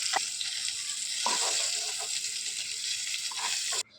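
Potatoes frying in oil in a pan after pointed gourd was fried in it, a close, steady sizzling hiss with a few scraping stirs, cutting off abruptly just before the end.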